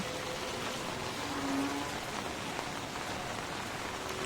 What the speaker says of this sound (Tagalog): Pero wrong timing kasi umuulan.